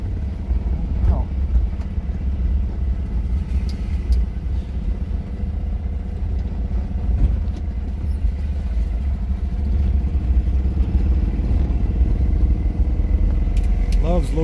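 BMW Isetta microcar driving in second gear, a steady close engine drone and rumble with rattling bodywork, held at a constant level throughout, with a voice talking over it.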